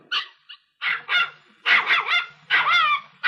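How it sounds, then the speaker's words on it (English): A dog barks in a series of sharp, close, loud barks and yips, arriving in bursts of one to three with short gaps between, alone without talk. "Belle is a truly wonderful dog"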